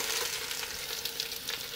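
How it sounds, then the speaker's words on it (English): Peppers hit hot oil and fat in a pan for chicken paprikash, producing a continuous bright crackling sizzle with small bursts of spatter, close and fairly loud. "So I'm going to add in the peppers"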